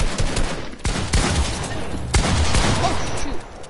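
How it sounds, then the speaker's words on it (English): Heavy sniper rifle fire in Fortnite creative mode: a rapid, loud run of gunshot blasts in close succession, several sharp cracks with booming tails, dense and continuous. "I'm just doing a heavy sniper spam"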